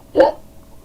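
A person hiccups once while playing PUBG, a single short, close, voiced hiccup that fades quickly.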